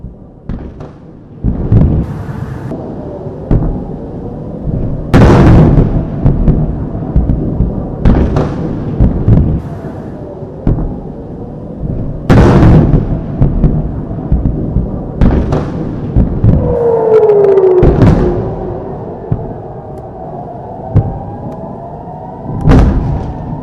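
Heavy explosions from an Israeli airstrike on Jabalia, Gaza, land as a series of loud booms spread over about twenty seconds, with deep rumbling between blasts and a brief whistling tone partway through.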